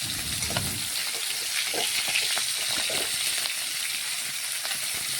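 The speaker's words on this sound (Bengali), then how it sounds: "তো দেখুন এক পাশ ভাজা হয়ে গেছে, আমি এখন এক পাশ উল্টে নিচ্ছি।" Prawns sizzle and fry steadily in a hot pan after being flipped, a dense continuous crackle with a few soft stirring knocks near the start, close and alone without talk.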